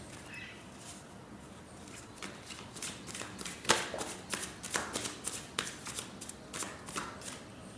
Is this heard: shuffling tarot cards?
yes